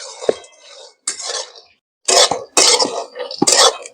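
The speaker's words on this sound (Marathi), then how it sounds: "तोपर्यंत मी गुळ फोडून घेणार खलबत्त्यामध्ये" Jaggery is pounded in a stone mortar with a pestle, giving several hard, close knocks and grinding crunches in irregular bursts separated by brief pauses.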